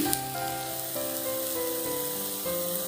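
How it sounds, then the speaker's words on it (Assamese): Steady, dense sizzling of pakoras deep-frying in hot oil, loud and continuous throughout with no voices. "এফালে পকৰি ভাজি আছোঁ"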